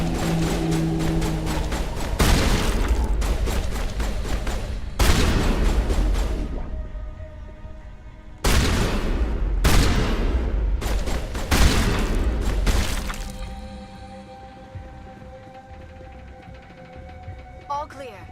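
Heavy gunfire in the game Mass Effect comes in loud repeated bursts separated by brief gaps, then fades into a humming, quieter stretch near the end.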